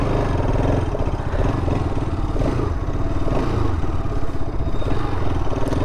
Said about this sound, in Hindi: तो थोड़ा सा पावर का भी दिखा देता हूँ मैं आपको कि कैसे बाइक चल रही है।